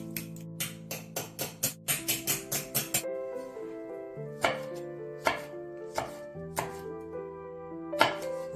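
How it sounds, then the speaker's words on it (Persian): A knife chops peppers on a cutting board for a fish patty dish, first in a quick run of close, even strokes, then in slower, spaced single chops. "فلفل ها رو خرد میکنیم."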